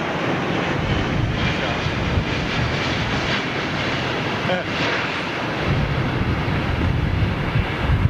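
Jet airliner landing at London Heathrow, a loud, steady broadband engine and air roar that fills the whole stretch without letting up, with voices faintly underneath.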